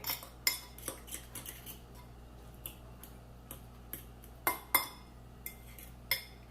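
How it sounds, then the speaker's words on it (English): A fork clinks and taps against a bowl while beating egg and cheese together for pizza chaffles, quiet irregular metallic ticks near at hand with short pauses, no voices. "you can use a whisk or a fork to stir the egg and the cheese together"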